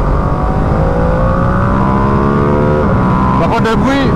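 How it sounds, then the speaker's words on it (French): A 2025 Ducati Panigale V2 sport motorcycle engine drones loudly and steadily, its pitch climbing as it revs, with airbox sound and a person talking over it near the end. "le bruit de la boîte à air, tu vois, il est génial"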